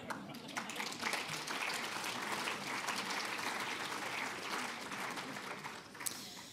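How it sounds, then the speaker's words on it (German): A conference audience at an SPD parliamentary group event on migration policy applauds itself, a dense, steady wash of many hands clapping that holds evenly throughout, moderately distant, and fades slightly near the end. "dass Sie sich selbst einmal klatschen und danken für Ihre wertvolle Arbeit"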